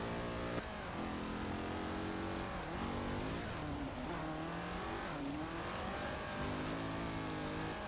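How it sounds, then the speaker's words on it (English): A Citroën 2CV engine in Forza Horizon 4 drones steadily throughout, its pitch rising and falling with gear changes, thin and buzzy rather than powerful, with no talking. "it is still the 2CV engine, by the way, Mike."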